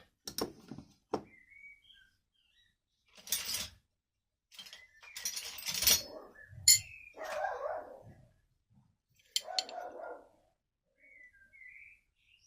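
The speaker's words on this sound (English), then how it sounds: "the neighbour's dog's upset" A neighbour's dog barks in short scattered bursts, some sharp and some muffled, a little distant, with birdsong and faint whistling chirps in quiet gaps between.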